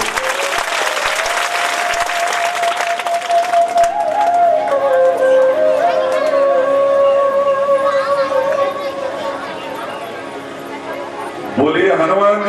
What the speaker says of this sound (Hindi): मैं चाहता हूं मेरी बहन के लिए एक बार ताली बजा दें आप सब।